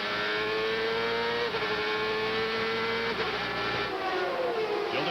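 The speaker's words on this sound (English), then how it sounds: "Let's listen to how Scott Pruitt handles the throttle chores of the run up to the green." A CART race car engine at the 1997 Detroit race, held on a steady high-pitched drone with slight throttle changes on the run up to the green flag, loud and continuous throughout.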